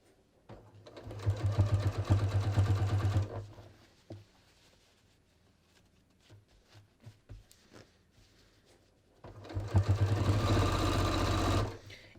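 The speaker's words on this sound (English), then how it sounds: "I am just going to start stitching" A sewing machine stitches down the inseam of flared jeans, two steady buzzing runs of a few seconds each, close and clear, separated by quiet handling and small clicks.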